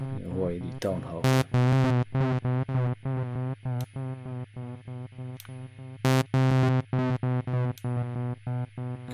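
Soundtoys Primal Tap delay plugin with modulation applied, producing repeating echoes with slightly shifted pitch for a chorus-like effect on a harmonically rich, distorted tone, a series of loud rhythmic pulses heard on their own.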